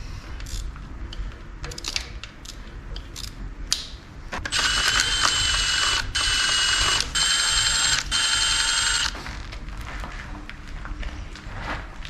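A ratchet removes the oil pump bolts from a junkyard 5.3 engine: short bursts of rapid clicking, then a longer, louder sustained ratcheting run in the middle, with handling knocks around it.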